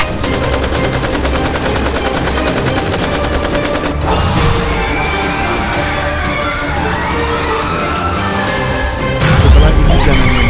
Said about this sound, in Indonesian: Tapi kan kamu punya AK-47, jadi tembak pocong itu.